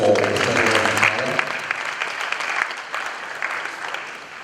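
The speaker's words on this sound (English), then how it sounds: "A round of applause one more time for" An audience at the Asantehene art awards ceremony gives a sustained round of applause, dense clapping that starts loud right after a short spoken cue and slowly thins and fades.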